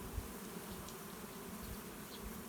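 Dense, steady buzzing of a honeybee swarm at a hive, a continuous drone with no pauses that stays close and fairly quiet throughout.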